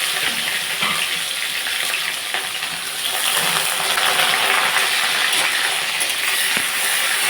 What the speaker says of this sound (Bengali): পেঁয়াজ এখন আমি ব্রাউন কালার করে একটু ভেজে নেব, 1 মিনিটের মতো নাড়াচাড়া করে।